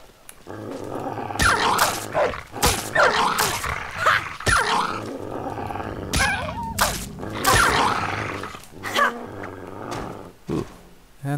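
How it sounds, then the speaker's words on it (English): A dog growls and snarls in Fallout 3, a run of rough, drawn-out growls and short harsh bursts, close and fairly loud, with brief gaps between. "I think it's probably that dog, because I can kind of hear the dog."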